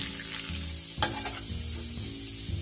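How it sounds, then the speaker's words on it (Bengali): Two small cardamom pods and a bay leaf sizzling in leftover fish-frying oil for a rohu curry, a close continuous crackle with a few spatula scrapes and stirring knocks. "এবার এই মাছ ভাজার তেলের মধ্যেই দিয়ে দেবো আমি দুটো ছোট এলাচ আর একটা তেজপাতা"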